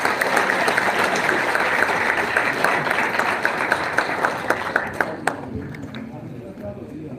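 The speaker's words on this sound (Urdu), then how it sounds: "تالیاں ہونی چاہیے بہت ساری۔" Dense crowd applause at a university prize ceremony in Pakistan as a student is called up, loud continuous clapping that thins into a few scattered claps and fades toward the end.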